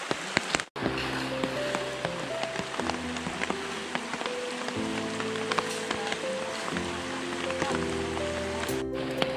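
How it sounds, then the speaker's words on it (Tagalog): Steady rain patters on a surface near a river, with scattered drips and a soft musical tone running underneath. "So, umuulan na naman ngayon."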